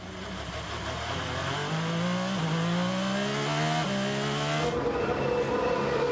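Formula 1 cars entering the pits, a close, loud high-pitched engine drone with rising and shifting tones as the cars slow and change gear, continuous throughout.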